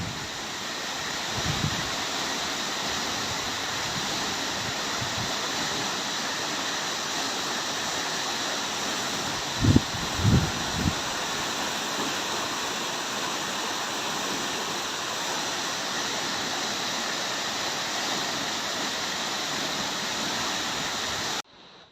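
Steady roar of a cold mountain waterfall near Kalpeshwar temple in the Himalayas, continuous rushing water throughout with a few brief low thumps midway.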